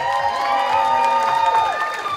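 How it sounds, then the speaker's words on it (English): A burlesque dating-game show audience cheers and whoops with some clapping, loud crowd voices and tonal yells filling the room throughout. "Let's give a big round of applause for all of our suitors."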